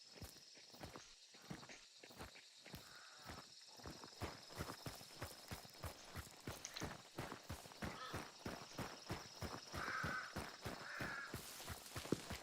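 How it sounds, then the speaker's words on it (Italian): Crows caw faintly in the distance, layered over a steady rhythmic clip-clop of hooves or footsteps that carries through the whole stretch. "Corvi."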